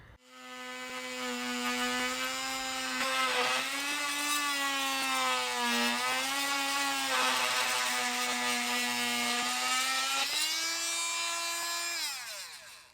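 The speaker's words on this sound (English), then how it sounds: "Now I'm going to pull a Dremel out so I can cut this little piece." Dremel multi-tool cutting a small piece of peel-and-stick backsplash in an RV, a thin high whine that rises and dips in pitch as it bites, running continuously for about ten seconds before winding down.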